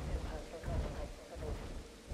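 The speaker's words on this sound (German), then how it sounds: "Ich hoffe, der Regen hört gleich mal auf." Steady rain falls in the video game Jurassic World Evolution, a dense even hiss with low rumbling like distant thunder swelling underneath, continuous and fairly loud for the whole stretch.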